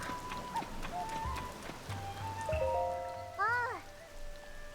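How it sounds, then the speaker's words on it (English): Steady rain patters over the village in Zelda: Tears of the Kingdom, a continuous soft wash under game music tones and brief character chirps. "It's raining."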